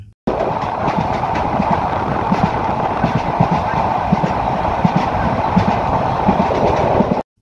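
A passenger train from Chattogram to Cox's Bazar rumbles steadily along the tracks, wheels clacking in a regular rhythm over a loud, continuous roar heard from inside.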